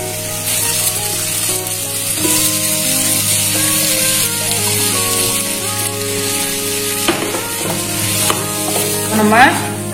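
Boiled potatoes stirred into sautéed onion and tomato for Kumbakonam kadappa kuruma: a loud, steady sizzle with scraping spoon strokes against the pan and a steady tonal hum underneath, growing busier toward the end.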